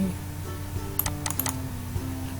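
Keys tapped on a computer keyboard while entering a formula in an Excel spreadsheet, a short cluster of several quick clicks over a steady low hum, fairly close.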